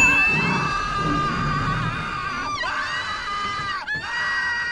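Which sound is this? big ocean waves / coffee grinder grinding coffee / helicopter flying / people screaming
people screaming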